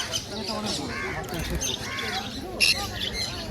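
Conure parrots squawk in short harsh bursts at a busy pet market, repeated calls and chirps rising over a crowded background of other birds and indistinct chatter nearby.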